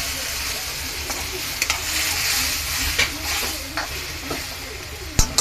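Ground masala with tomato, curry leaves and coriander fries for egg curry, a continuous close sizzle with intermittent spoon clinks and scrapes against the pan.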